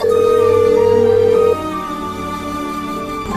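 A phone ringtone plays as a loud, steady electronic tone for about a second and a half, then cuts off, leaving a softer background hum behind.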